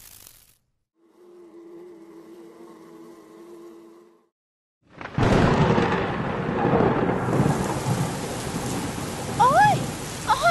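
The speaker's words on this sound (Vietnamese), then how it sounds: "Ôi, ôi, mưa thật các bạn ơi." Cartoon thunderstorm: after a brief low hum, heavy rain bursts in loud and dense with rumbling thunder, pouring steadily to the end, with a few faint high squeaks over it.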